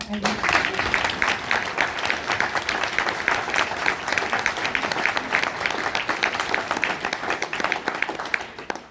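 An audience at a public political meeting in Brest claps steadily, a dense, even wash of applause lasting throughout that tapers slightly toward the end, with a brief voice at the start.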